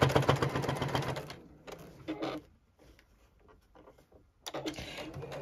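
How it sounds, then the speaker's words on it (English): A JUKI sewing machine stitches a bucket hat in rapid, even needle pulses, stopping for a quiet pause with small handling noises before the stitching starts again near the end. "And I will sew this all the way around."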